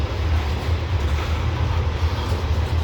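A slow-moving CSX coal train climbs Parrs Ridge near Bartholows, Maryland, with a loud, continuous low rumble of wheels and cars rolling past close by.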